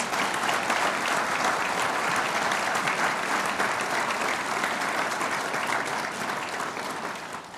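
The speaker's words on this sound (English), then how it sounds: "give her a round of applause" Sustained audience applause at a Woman of Distinction ceremony, dense, even clapping from a large crowd that holds steady and then tapers slightly at the end.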